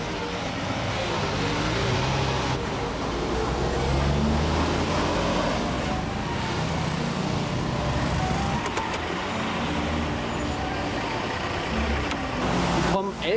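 Trucks and other traffic rumbling past on a mountain road near an overheated stalled Fleetwood motorhome, a steady loud engine roar with passing swells and talk over it.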